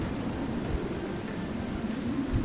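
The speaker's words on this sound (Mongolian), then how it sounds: "Тэгээд үүлнээс бороо туслав." Rain falling in a steady, even hiss with no breaks, moderately loud and broadband, with no voices over it.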